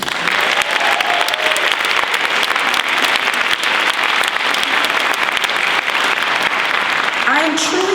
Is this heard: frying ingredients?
no